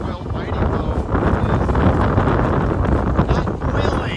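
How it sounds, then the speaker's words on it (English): Strong wind on a chilly morning hiking trail, a steady loud roar buffeting the microphone throughout without letting up. "it is a chilly morning and it is windy as can be"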